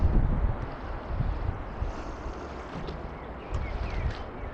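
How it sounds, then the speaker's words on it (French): Strong wind blows outdoors and buffets the microphone with a steady, low rumbling roar that swells and eases in gusts. "il y a beaucoup de vent"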